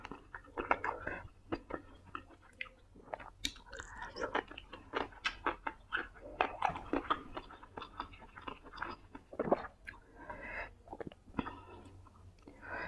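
Close, wet chewing and crunchy bites while eating braised pork with som tam and stir-fried noodles, arriving in irregular, repeated mouthfuls throughout with no clear speech.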